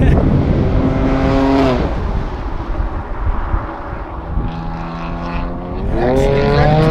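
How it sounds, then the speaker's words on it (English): Turbocharged BMW tuner car engine revving in rising and falling sweeps, heard from inside the car with wind rush, a few distinct throttle pulls separated by a dip in the middle. "It makes tuner car noises."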